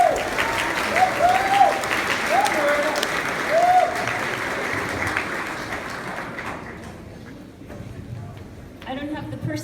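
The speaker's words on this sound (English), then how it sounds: "Please give her a big round of applause." Audience applause fills a talk at Maker Faire Bay Area, steady and moderately loud, with a few whoops over it, thinning toward the end as a voice begins speaking.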